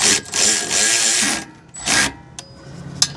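A power tool tightens the corroded bolts on a Toyota Camry's rear brake drum to push the drum off. It comes in short, loud whirring bursts separated by brief pauses, with a few sharp clicks near the end.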